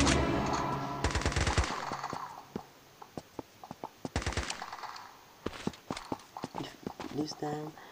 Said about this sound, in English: this is a shotgun